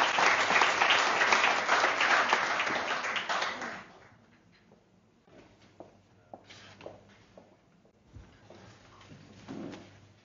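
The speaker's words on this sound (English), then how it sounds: "give him a warm applause" Audience applause welcomes a speaker at an evening event, starting as full, steady clapping for about four seconds, then fading quickly to a few isolated claps, taps and shuffling in a quiet room.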